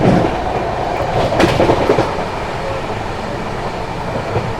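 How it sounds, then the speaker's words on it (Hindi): The Brahmaputra Mail express train runs at speed at night near Vindhyachal, a loud rolling rumble with a burst of rhythmic clatter early on, then a steady rushing drone. "गाड़ी ने अपनी रफ्तार बनाई है"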